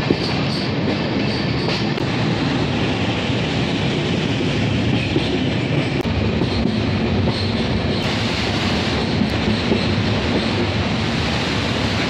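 Overnight train between Bandel and NJP running steadily on rails, a continuous loud rumble with clickety-clack wheel rhythm throughout, heard from inside the carriage with no talking.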